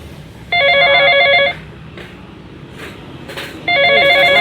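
A mobile phone rings loudly with an electronic trilling ringtone in two bursts, about a second each, separated by a quieter gap with faint background noise in an indoor comedy scene.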